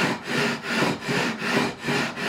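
A 240-grit radius block is pushed back and forth over stainless steel guitar frets, giving about six smooth, rhythmic abrasive strokes, close and steady with no talking.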